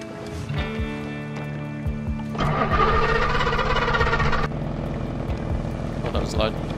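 A boat engine in the game DayZ sputters and catches, settling into a loud rumbling idle with a rising whine, while people talk and game sounds play around it.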